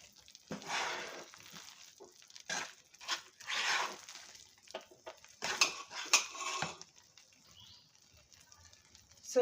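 Mysore pak mixture stirred with ghee in a pan, bursts of metal spoon scraping and clattering against the pan with brief pauses between strokes, close and uneven, over a faint sizzle.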